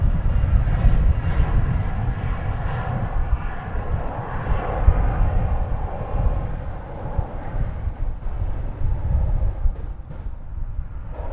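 A Finnair airliner roars at DFW Airport, a loud, steady low engine rumble mixed with wind buffeting on the microphone, gradually easing off toward the end.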